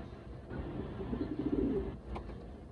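Racing pigeons kept as stock breeders coo softly in their loft, a low, rounded burbling that swells in the middle and then fades. It sounds fairly close but quiet, with no voices.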